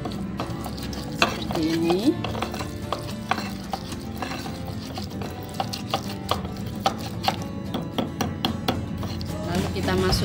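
Kencur and shrimp paste get ground coarsely in a stone mortar and pestle, a repeated knocking and scraping rhythm with sharp taps close up, while someone talks over it.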